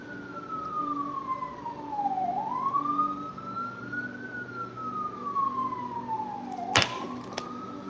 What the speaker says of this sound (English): I know you hear the sirens